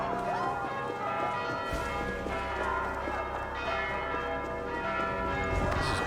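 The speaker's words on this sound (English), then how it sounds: "all of the church bells are currently ringing" Several church bells ring together in Assassin's Creed Valhalla, a dense, overlapping peal that carries on steadily throughout, with a low rumble underneath.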